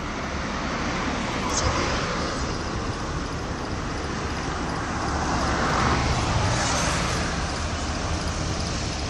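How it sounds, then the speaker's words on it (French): At Port Est on Réunion, where new gantry cranes are being installed, trucks hauling rocks rumble past in a broad, steady roar of heavy engines and road noise, with a brief hiss like an air brake. "Voilà donc les camions qui transportent les roches."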